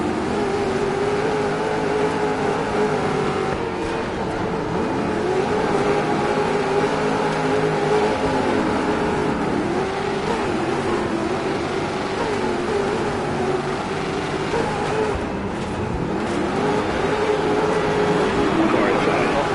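Engine drone of race cars in a sim racing game, a steady rising and falling whine running continuously near the end of a race, with someone talking over it.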